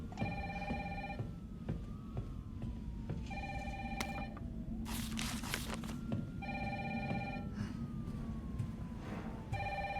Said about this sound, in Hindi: फोन बज रहा है कहीं पे